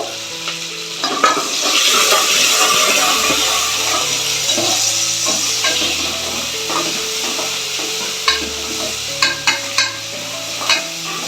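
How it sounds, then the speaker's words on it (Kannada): Curry leaves and onions fry in hot oil for paper chicken fry, giving a loud, continuous sizzle with steady stirring, and a few sharp spatula knocks near the end. "ಸೊ ಪೂರ್ತಿ ಕರಿಬೇವು ಆಮೇಲೆ ಉಳ್ಳಾಗಡ್ಡಿನ ಫುಲ್ ಎಣ್ಣೆಯಾಗ ಹುರ್ಕೋಬೇಕಾಗುತ್ತೆ"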